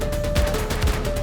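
Suspect firing a gun during a street chase in the police video game The Precinct: a short, loud burst of several quick shots over a game background hum.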